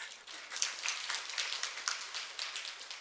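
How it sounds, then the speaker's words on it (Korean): A congregation claps for a newly appointed young deaconess during a New Year's Eve church service, a dense, steady patter of many hands at moderate distance with no talk. "박수 한번."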